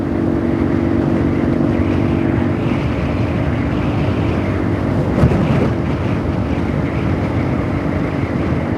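Steady, loud engine drone from a motorcycle on the move along a road, a constant hum with heavy wind rush throughout and a brief louder bump near the middle, no voices.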